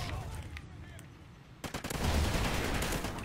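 Video game gunfire in a Call of Duty-style Cranked match, a drop shot: quiet stretch of game ambience, then a burst of rapid shots swelling into loud sustained fire toward the end.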